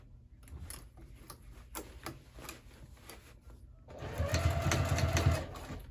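A sewing machine stitches a crossbody bag from the lining side, starting with scattered light ticking taps, then running into a louder steady whir of stitching for a couple of seconds before stopping.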